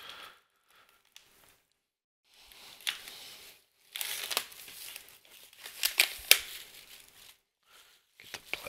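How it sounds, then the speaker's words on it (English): Plastic shrink wrap being peeled and crumpled off a Call of Duty Black Ops III Hardened Edition box, bursts of close crinkling and tearing after a quiet start, growing denser toward the end. "Get the plastic out of the way."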